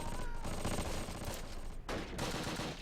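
Dense, continuous rifle and machine gun fire from Close Combat: Panthers in the Fog roars as a loud, unbroken crackle, briefly dipping before resuming.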